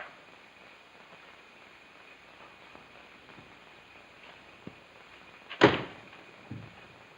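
After a quiet stretch of faint background noise, a door shuts with a single solid thud, followed by a softer knock moments later.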